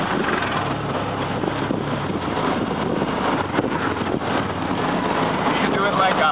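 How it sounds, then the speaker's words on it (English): An auto rickshaw ride fills the air with a steady, loud roar of engine and rushing wind, unbroken and close to the microphone throughout. "This is our very first rickshaw ride."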